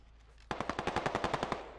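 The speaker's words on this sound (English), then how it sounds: "I heard the bullets." Automatic rifle fire in the military shooter Squad: a rapid burst of about a dozen evenly spaced shots, moderately distant and faint, cutting in abruptly after a quiet moment with no talking.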